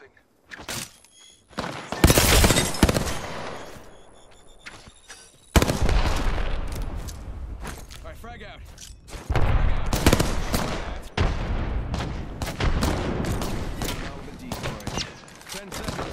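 Bursts of gunfire in the video game Apex Legends, loud rapid volleys with booming impacts crowding most of the stretch, separated by a few short lulls, with a voice talking at times.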